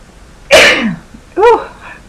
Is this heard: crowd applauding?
no